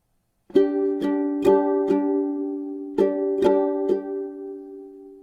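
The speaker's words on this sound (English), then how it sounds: "And then you're going to strum." A ukulele is strummed for the One Piece opening, with about seven bright, sharp chord strokes in an uneven rhythm, each ringing briefly, close and moderately loud with no voices.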